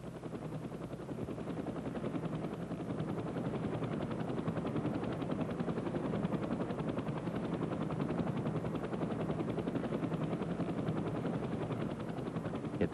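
Helicopter main rotor spinning at high speed, 6,600 RPM, during a high-speed blade track check on the ground, giving a steady loud continuous whirring drone that does not change throughout.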